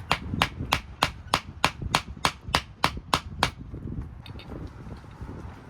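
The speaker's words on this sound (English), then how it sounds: "that was the perfect hammering to fit" Eleven sharp metallic hammer strikes on a sway bar bracket of a 1964 Chevrolet El Camino, in a steady, even rhythm, ringing and close, then they stop and only a faint background hum remains.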